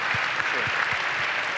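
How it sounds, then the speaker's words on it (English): Applause from a university convocation audience, a steady wash of many clapping hands at moderate volume, with a few softer low thumps running under it throughout. "We can get a clap on that one."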